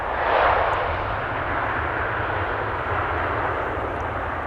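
Airliner arriving from Johannesburg on landing approach at Amsterdam Schiphol Airport, a broad, steady jet roar heard from a distance, swelling slightly near the start and then holding level throughout.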